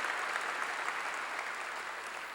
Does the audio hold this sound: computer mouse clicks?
no